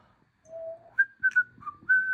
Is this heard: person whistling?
yes